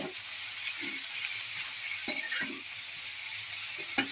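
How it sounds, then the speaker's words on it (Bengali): Bathua greens frying in a pan: a steady close sizzle runs throughout, with a few soft stirring scrapes and two sharp ticks, no voices. "বাদামি বাদামি কালার চলে আসছে আমি আমার শাকটাকে দিয়ে ভেজে নিব"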